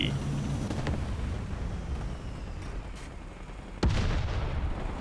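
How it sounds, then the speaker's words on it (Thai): Gunfire from a War Thunder tank battle with a Leopard 2A4: a continuous low rumble with scattered thuds and one sharp, loud blast near the end. "เสียงปืนด้านข้าง"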